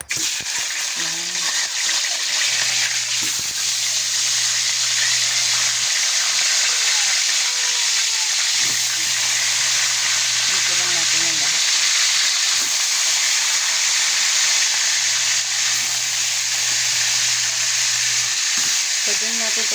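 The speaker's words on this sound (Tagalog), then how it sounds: "Hinaan lang natin yung apoy, tapos piprito natin to." Ingredients for sinigang sa miso fry in oil over lowered heat, a loud steady hissing sizzle throughout, with a low intermittent hum from a nearby appliance.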